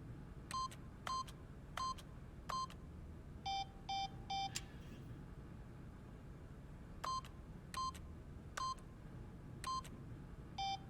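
A keypad for a PIN in The Stanley Parable sounds a series of short electronic button beeps, each brief and evenly spaced, in two groups separated by a pause, fairly faint over a low ambient hum.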